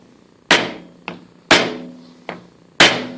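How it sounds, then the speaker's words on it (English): A wooden peg is hammered to drive a shaft out of a pulley on a knife grinder built from a Harbor Freight belt sander: five close, sharp knocks in an alternating pattern, the louder blows ringing out briefly. "I'm going to tap on this, and hopefully the shaft will come out of the pulley."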